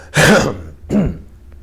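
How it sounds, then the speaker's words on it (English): Two quick, forceful throat clearings, close and loud, the first longer than the second, with a brief pause between them. "I'm going to clear my throat."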